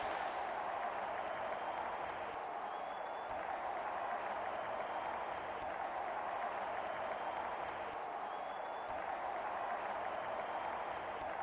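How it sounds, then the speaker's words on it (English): A cricket stadium crowd at an India vs Bangladesh T20 World Cup 2022 match applauds and roars steadily, a dense, continuous wash of clapping and cheering heard from a distance without letup. "Crowd going mad here."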